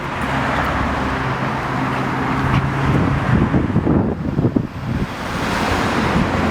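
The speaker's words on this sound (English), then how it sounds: "Watch the car." A car rolls past on a neighborhood street with a low engine rumble that swells around the middle and then fades. Heavy wind buffets the microphone, and a steady hum continues underneath.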